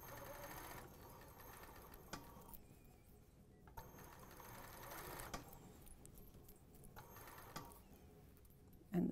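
A sewing machine fitted with a ballpoint needle stitches a stretch t-shirt seam in short bursts of rapid mechanical clatter, separated by brief pauses, quiet and close.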